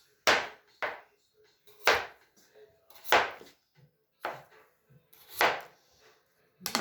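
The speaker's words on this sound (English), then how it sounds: "Okay, so let's slice these up." A knife cuts through potatoes on a cutting board for a sausage-and-potato dish: about eight crisp, close chops at uneven intervals, each a sharp thud with quiet gaps between and no talking.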